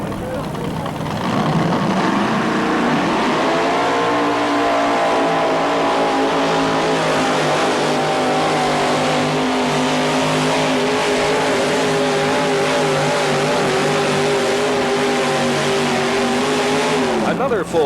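A naturally aspirated tractor-pulling engine roars steadily at high revs for a long stretch down the track, loud and close, with a voice talking over it.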